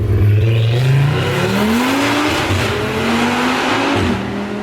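A VW Golf R fitted with a 640 BHP 2.5L Audi RS3 five-cylinder engine drives at dusk, its loud, close engine note climbing steadily in pitch under acceleration, dipping briefly at a gear change, then rising again.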